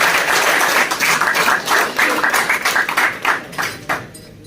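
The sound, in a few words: applause for a participant at a pigeon tournament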